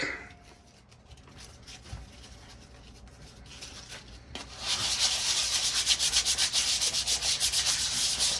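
Hand sanding with 220 grit sandpaper on a scrap wood project made with a burnt tree root, starting with light scattered scrapes, then brisk rhythmic back-and-forth strokes that grow loud and close.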